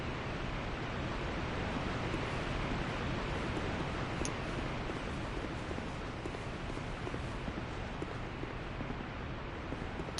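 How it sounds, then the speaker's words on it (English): A waterfall area in the video game Dark Souls 2 gives a steady, broadband rushing roar of falling water that holds evenly throughout with no talking. "It's a nice waterfall area."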